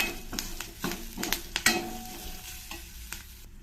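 Onions and curry leaves fry in a hot pan for an eggplant sambar, a steady close sizzle broken by several sharp stirring scrapes and clinks of the utensil against the pan.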